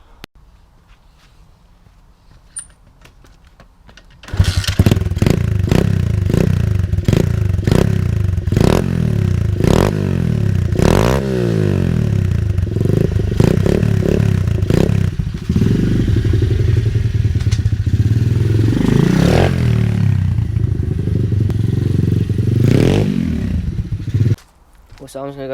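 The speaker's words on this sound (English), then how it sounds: "Let's do a little quick start up. I'm just going to let the pit bike warm up" A pit bike engine starts up in a garden and settles into a steady, buzzing idle as it warms up, with a few throttle blips and occasional clatter and thumps around it.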